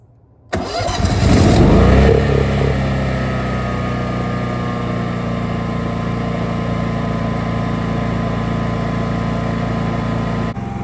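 A Duromax XP1600IH dual fuel inverter generator running on gasoline starts with a short pull-start surge, then settles into a steady, even hum that holds close and constant.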